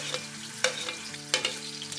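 Crushed garlic, green chilli and ginger fry in hot oil for biryani, hissing in a steady close sizzle while a spoon strikes the pot in two or three sharp clinks.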